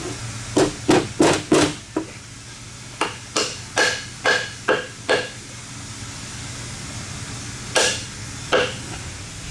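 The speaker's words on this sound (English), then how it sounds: "I'm using a soft hammer and I'm not putting it down against something hard" A soft hammer taps a bearing into a dirt bike water pump housing with a quick run of sharp, close knocks, then a second even series, then two more spaced hits, against a faint background hiss.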